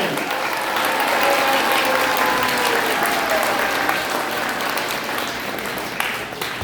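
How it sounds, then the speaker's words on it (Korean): A large audience at a political gathering gives a pastor a big round of applause, a loud, sustained, dense clatter of many hands that fills the room for several seconds and tapers slightly at the end. "우리 전용훈 목사님을 위해서 큰 박수 한번 해주시기 바랍니다."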